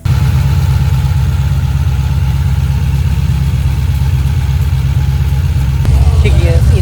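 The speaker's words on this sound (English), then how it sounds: "First time it's idling." A built 1000HP HSV GTS engine with custom exhaust idles on a dyno, a loud, steady low rumble throughout with a slight rise near the end.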